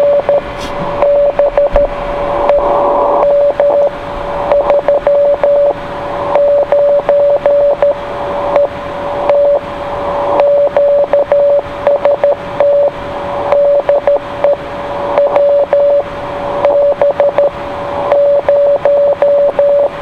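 A Morse code CW signal received on a 902 MHz radio: a steady, pure tone keyed on and off in quick dots and dashes, loud and clear over a light hiss.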